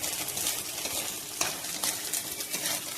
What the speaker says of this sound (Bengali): নারিকেলটা ফ্রাই হয়ে আসছে।